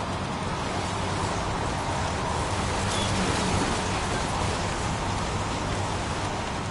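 Steady heavy rainfall in the video game Heavy Rain, a dense continuous hiss of drops on surfaces, loud and even with no pauses.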